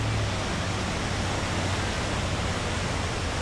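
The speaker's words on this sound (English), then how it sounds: "The water's just raging." Raging floodwater in Gatlinburg in the Great Smoky Mountains during a tropical storm, a constant broadband roar of rushing water, loud and unbroken.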